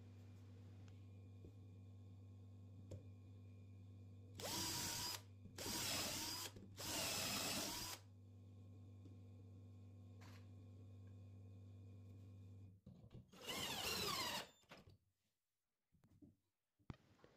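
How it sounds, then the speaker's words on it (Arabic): A power drill with a combined drilling and countersinking bit boring into wood, in three short whining bursts and a fourth after a pause, over a steady low hum in a quiet room. "طبعا البنطة دي مميزة لأنها بتخرم وبتخوش في نفس الوقت"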